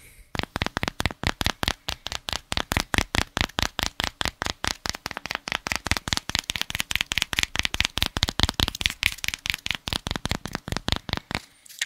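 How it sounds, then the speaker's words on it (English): Rapid, steady taps on a protective microphone cover placed over a Yeti microphone, close and crisp, repeating in a fast even rhythm for the whole stretch with no talking. "And that's just tapping on it."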